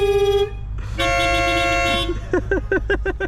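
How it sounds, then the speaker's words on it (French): Car horns honk from behind at a classic-car track day at Montlhéry: a long blast, then another sustained one, then a quick series of short toots over low engine and road noise. "Casse les couilles avec son klaxon de merde derrière."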